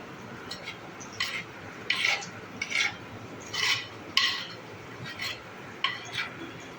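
Food slowly stirred in a pan for a home-cooked lunch, a spoon scraping and clinking against the pan in soft, irregular strokes, close and fairly quiet with no talking.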